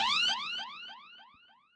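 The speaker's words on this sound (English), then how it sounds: "and this siren sound." Siren sound effect from the Cymatics Diamond Hip Hop sample pack: a short, bright, wailing tone that sweeps downward again and again and fades away, heard alone.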